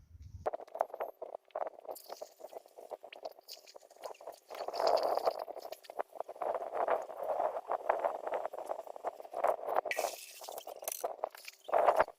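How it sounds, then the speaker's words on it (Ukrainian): Water runs into a cut-open steel gas cylinder with a faint, hollow, resonant gurgle and occasional scrapes as it fills. "тепер заповнюємо його водою"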